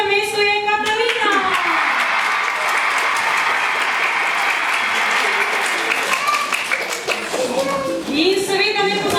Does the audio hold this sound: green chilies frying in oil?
no